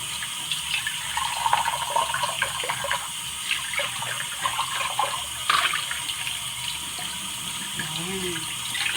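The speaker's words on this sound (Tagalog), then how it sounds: "Banlawan natin mabuti para matanggal yung amoy na ginamit natin." Running tap water splashes steadily over an item being rinsed at a kitchen sink to wash off a chemical cleaner smell, a continuous wet hiss with faint clatter and a brief voice near the end.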